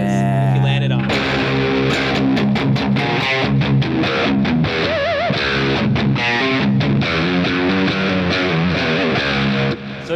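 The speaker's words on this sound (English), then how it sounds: "what's cool about the drop C tuning is you get that low sound, and you can do a lot just on that lowest string" Electric guitar tuned down to drop C playing a riff in a low, baritone-like range, distorted and loud, with sustained chugging notes and chord stabs running continuously throughout.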